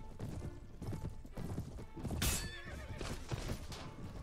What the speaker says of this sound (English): Ah, come on, they're shooting at my horses now.